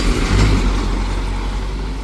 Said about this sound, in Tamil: பிரதேசத்தால் வந்து ஒரு பேருந்து கொண்டு போய்கொண்டிருக்கு.